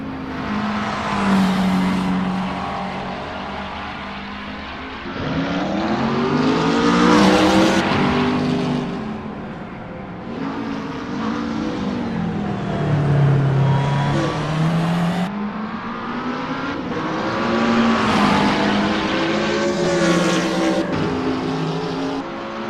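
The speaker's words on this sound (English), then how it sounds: "Asan is P7 driving a McLaren 650" A McLaren 650 GT3 race car engine at Bathurst in a racing game roars continuously through the lap, rising and falling in pitch as it revs up through gears and backs off for corners, loud and steady with no talk.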